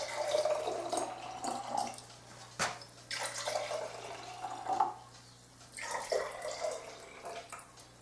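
Kangen water being poured into bottles of store-bought water, a steady trickling and splashing stream that comes in several separate pours with short gaps between them, close by and with no talking.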